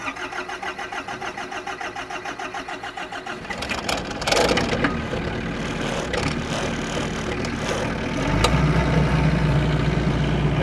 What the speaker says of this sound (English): We'll go ahead and start up the generator.